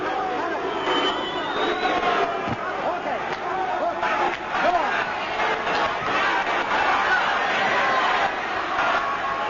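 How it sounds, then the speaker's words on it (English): A big arena crowd at a boxing match roars and chants for a knockout, a loud steady mass of cheering voices with a ringside commentator talking over it. "The big crowd calling for a knockout"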